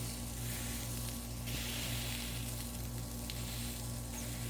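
Shrimp kabobs cook on a flat griddle, giving a steady, soft sizzle and hiss that runs evenly throughout, with a faint low hum underneath and no voices.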